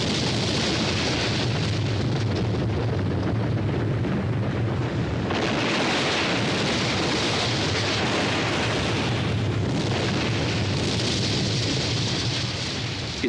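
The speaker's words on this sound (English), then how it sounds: "explosions, planned very carefully, are being used increasingly to help renovate American cities by clearing away old and abandoned buildings." Planned demolition explosions bring down old, abandoned city buildings, heard as dense, continuous roaring rumble and crackling debris with a couple of surges, loud and close.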